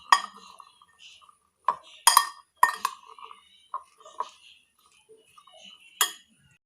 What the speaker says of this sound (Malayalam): ആഡ് ചെയ്തിട്ട് നന്നായിട്ട് ഒന്ന് മിക്സ് ചെയ്തെടുക്കുക